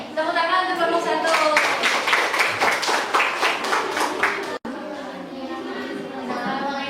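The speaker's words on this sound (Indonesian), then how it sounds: "tepuk tangan untuk kelompok 1" Students in a classroom clap together for a group, a dense burst of many small hands with chatter mixed in that briefly cuts off and then resumes.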